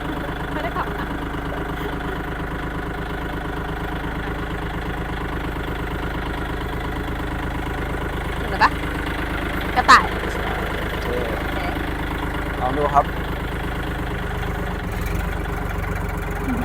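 A used Kubota farm tractor engine idles steadily with a low, even rumble, broken by a few brief clicks and knocks.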